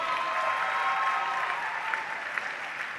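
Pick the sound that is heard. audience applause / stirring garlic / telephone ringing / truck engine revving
audience applause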